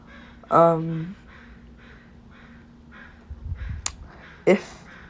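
Crows caw outside in a few short bursts near the end, with a voice talking over the background.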